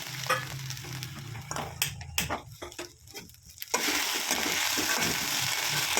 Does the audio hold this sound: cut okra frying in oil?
yes